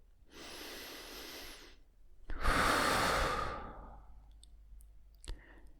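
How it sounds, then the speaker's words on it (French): A deep breath drawn in slowly and then let out in a long, audible exhale, close and breathy, followed by a few faint clicks. "Tu vas prendre une grande respiration maintenant de nouveau."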